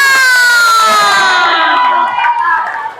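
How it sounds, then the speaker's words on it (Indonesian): Classroom cheering and applause during a teacher training session, a bright crowd of children's voices shouting together, loud and close, tapering off toward the end. "Iya, tepuk tangan."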